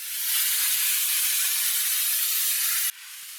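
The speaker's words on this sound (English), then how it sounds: "I also had to carefully spray out all the door jambs" A steady, close hiss of water spray washes out the door jambs of a dusty Ford Escape, running continuously for about three seconds before dropping off abruptly, with no talking.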